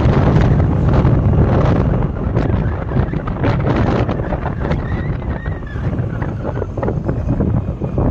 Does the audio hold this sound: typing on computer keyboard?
no